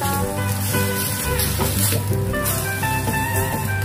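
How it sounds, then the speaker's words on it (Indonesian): Cabbage stir-fried with chicken and mushrooms sizzles continuously in a pan as it is stirred, an even, close frying hiss with tonal sound running underneath. "aduk lagi"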